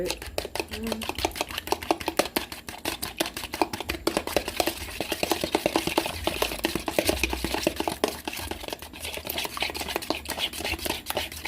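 A fork or whisk stirs and beats an egg-and-water mixture for crab sticks in a bowl, making a quick, steady run of close clicking taps that lasts the whole stretch.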